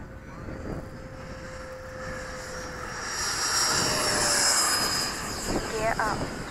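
Freewing MiG-21 RC model jet taking off, a steady broadband electric ducted-fan roar that swells and holds at moderate distance while a voice speaks over it.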